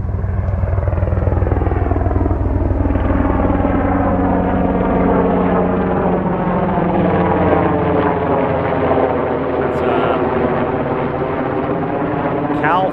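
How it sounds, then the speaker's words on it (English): A large helicopter flies low overhead on a street, its heavy rotor thump and turbine whine loud and close, slowly shifting as it passes, with a voice speaking briefly beneath it. "A helicopter is coming for us."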